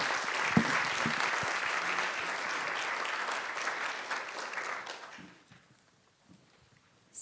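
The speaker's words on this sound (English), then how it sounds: "Can we get another round of applause for our speakers?" Conference audience applauding speakers after lightning talks, a sustained wash of clapping that fades out near the end, followed by near silence.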